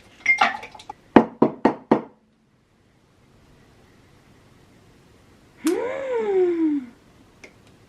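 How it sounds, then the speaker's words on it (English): Ice cubes drop one after another into a glass for iced coffee, a quick run of sharp, close clinks, then after a pause a longer ringing, pouring sound fills the glass. "Ice cubes."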